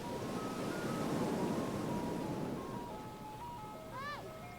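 A jingling ice cream truck melody plays steadily through the whole stretch, its tune moving between a few sustained notes, with a rising chirp near the end and a soft broadband background hiss.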